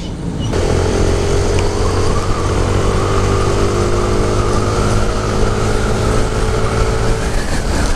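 A Yamaha Aerox S scooter accelerates with a steady, loud engine drone that holds for several seconds without a break, close by and with no voices over it.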